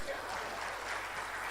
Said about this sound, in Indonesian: Tepuk tangan buat Kamidi.